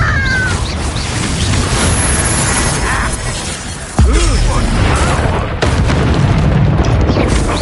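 A Confringo blast spell explodes during a Hogwarts Legacy battle. A sharp, loud boom cuts through busy combat noise, a second impact follows, and voices shout throughout.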